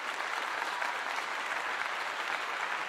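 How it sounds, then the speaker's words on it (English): Steady, even burst of clapping, continuous and fairly soft, like a clapping sound effect with no voices over it. "I give you a clap."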